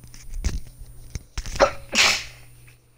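A single loud, close sneeze bursts out after a few short breathy intakes and clicks, ending in a sharp hissing release.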